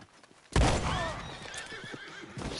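In the video game Red Dead Redemption 2 a horse gives a loud, close, wavering neigh after an abrupt start, with faint hoof clip-clops and background game ambience beneath.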